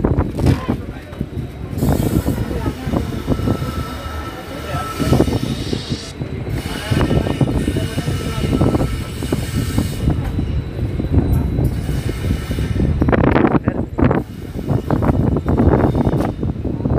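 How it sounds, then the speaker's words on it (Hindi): An Indian Railways ICF coach with brake van shunting at a station near Badaun and Bareilly, loud rumbling railcar movement with clanks and wheel squeals, wind buffeting the microphone, no speech. "वही है शंटिंग कर रहा है गाइस एक ICF ब्रेक के साथ"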